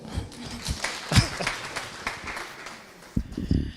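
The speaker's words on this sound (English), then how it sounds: "Clap for them." Scattered clapping from a conference audience, uneven and moderately quiet, with a few louder bursts and low rumbling noise mixed in.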